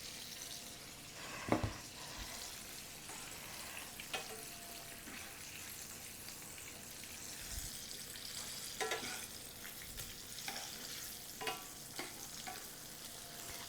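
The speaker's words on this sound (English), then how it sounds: "I just fry them always in my cast iron frying pan." Green tomatoes fry in a cast iron frying pan with a steady, close sizzle and crackle, broken by occasional pops and faint scraping clicks, with no one talking.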